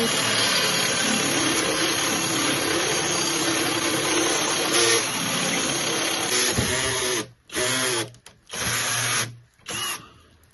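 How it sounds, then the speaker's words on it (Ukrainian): A Sturmax CDM3212CLB 12V cordless drill-driver runs loud and steady while drilling, its whine holding for several seconds before breaking into a few short bursts with pauses between them. "Давайте попробуємо технічно досверлити."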